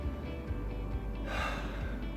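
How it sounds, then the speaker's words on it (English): A deep breath in during a seniors' shoulder-mobility exercise, a faint airy inhale that swells briefly partway through against low background rumble. "Tilt your head to the right. Take a deep breath in."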